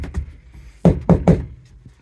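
Three sharp, close knocks on a camper van's hollow roof panel come in quick succession after a couple of softer taps, with no voices.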